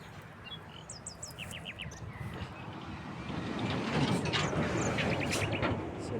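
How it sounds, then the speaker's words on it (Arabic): Small birds chirp in short repeated trills outdoors at a fishing spot, fairly faint and distant, while a broad rushing background rumble swells louder partway through. "الطيور كتغرد."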